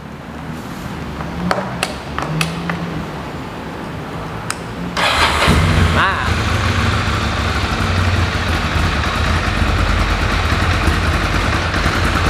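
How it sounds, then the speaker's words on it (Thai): A stock-exhaust 2014 Ducati M795 motorcycle cranks briefly after a few small clicks and then fires up. It settles into a loud, steady, rumbling idle close by, with no talking. "มาฟังเสียงท่อคันนี้กัน"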